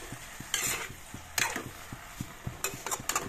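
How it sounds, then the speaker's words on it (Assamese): Fish curry being stirred in a pressure cooker pot, a few scraping, clattering strokes of a utensil against the metal with a faint sizzle between them. "এইখিনি এতিয়া এফালৰ পৰা লৰাই দিছোঁ"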